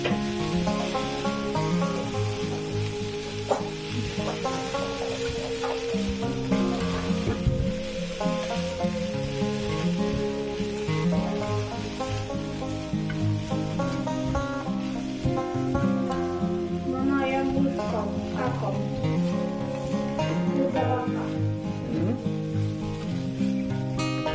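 Croutons frying in a pan for a hot-dog salad, giving a steady, dense sizzle under music that plays throughout.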